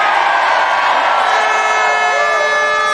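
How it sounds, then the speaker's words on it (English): A large rally crowd cheers for South Africa at a pro-Gaza rally in Birmingham, a loud, sustained roar of voices with whoops and shouts, steady throughout without talk. "I want an even bigger cheer for South Africa."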